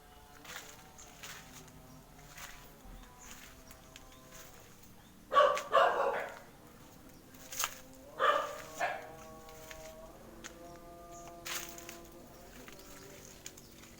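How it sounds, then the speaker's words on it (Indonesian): A dog barks in a couple of short bursts somewhere off to the side at the disused Sewugalur sugar factory, amid faint footsteps and quiet background noise. "Ada anjing yang menggonggong."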